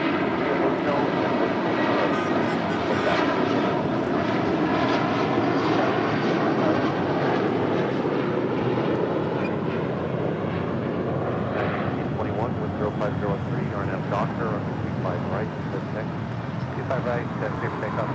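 A heavy Boeing 777 on a two-mile final at a Los Angeles airport gives a loud, steady roar of jet engines that runs throughout, with a radio voice speaking briefly over it.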